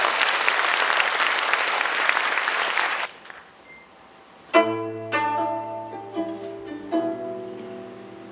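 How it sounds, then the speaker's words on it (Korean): A seated audience at a book concert applauds loudly and steadily for about three seconds to welcome a gayageum-playing singer-songwriter. Plucked gayageum notes and a soft sung vocal follow. "따뜻한 박수로 모시겠습니다"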